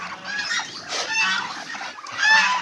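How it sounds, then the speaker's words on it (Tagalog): Several pet ducks calling in a farmyard in the morning, loud nasal honks and squawks overlapping in bursts, fairly close, with no talking. "Ito na yung mga pato ko,"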